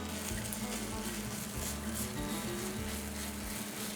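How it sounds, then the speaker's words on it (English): A steady, gentle sizzle of onions frying in a pan, continuous and even throughout, with soft crackling texture and no talking. "you can hear a gentle sizzle."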